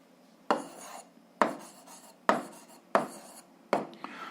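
Five separate bursts of scratchy handwriting, each a short, sharp stroke that quickly fades, as the answer to a seventh-grade algebra problem is written down, close and clear with no talking.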